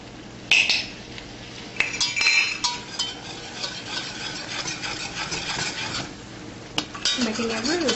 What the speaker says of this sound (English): Making a roux.